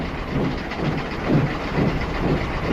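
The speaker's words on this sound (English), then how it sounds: "he pushed the tenderless steam engine into the smelter shed" Old tenderless steam locomotive rolling slowly along rails into a smelter shed, a steady rumbling rattle with soft rhythmic clanks and creaks.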